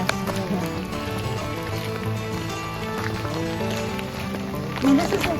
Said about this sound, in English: this is not abnormal rain for us to have